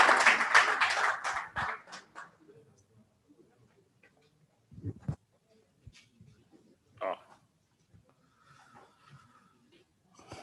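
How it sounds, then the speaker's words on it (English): Audience applause at a book launch, loud and dense for the first two seconds, then thinning into a few scattered claps with long near-silent gaps. "Please a round of applause for Mr. Ayola Fatono."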